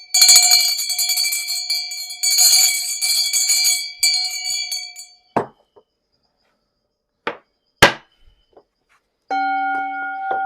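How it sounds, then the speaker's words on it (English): Small handheld ritual bell of a Taoist altar, rung in two long shimmering bursts with ringing tones that hold and decay, then a few sharp knocks and a brief steady tone near the end, alone with no talk. "if we're here, we have a bell, we can use the bell"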